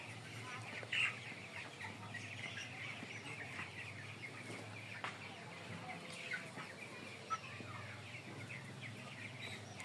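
Broiler chickens on a poultry farm make a faint, steady background of clucks and murmurs, with a couple of slightly louder calls standing out briefly.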